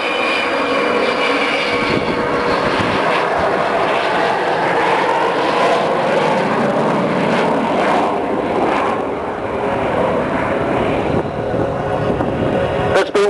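Avro Vulcan bomber passing at the Silverstone air show, a loud, continuous roar of jet engines that holds steady throughout, with heavy wind buffeting on the microphone.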